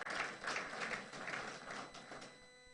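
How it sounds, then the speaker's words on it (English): Audience at a book launch clapping steadily, a dense patter of hands throughout that gradually thins toward the end. "Please clap for yourselves."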